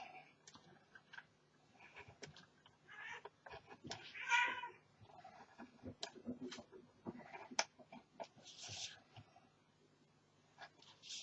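Cats fight outdoors, with scattered yowls, hisses and a sharp caterwaul rising midway, heard at moderate distance over faint ticking noises.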